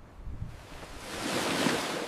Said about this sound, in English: The water is going out fast.